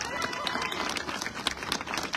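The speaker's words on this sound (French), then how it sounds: "vous n'hésitiez jamais à applaudir, à encourager, s'il vous plaît," Dense crowd applause fills a closing ceremony of a sled-dog race event, many hands clapping steadily and loudly with scattered cheers mixed into the continuous roar.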